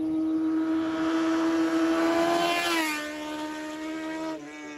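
A motorcycle engine played back from a recording: a loud, steady droning note that drops sharply in pitch partway through, as if the bike sweeps past, then settles lower before fading slightly.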